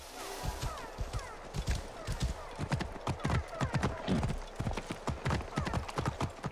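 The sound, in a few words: horse riding along the beach in Assassin's Creed Origins video game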